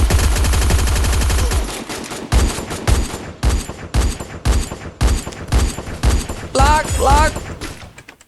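Free Fire video game gunfire plays as a loud, rapid automatic burst that runs steadily for about two seconds. Separate punchy shots follow in a stop-start rhythm, and an excited voice shouts briefly near the end.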